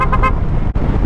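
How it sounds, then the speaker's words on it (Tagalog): Two short, close car horn toots blare over steady road and engine noise on a highway ride, followed by a brief dip in the rumble. "Busina."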